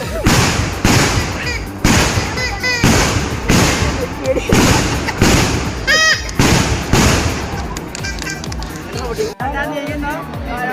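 Celebratory firecrackers for weddings go off in a series of loud, sharp bangs, roughly eight distinct blasts spaced about a second apart, with a crowd chattering throughout.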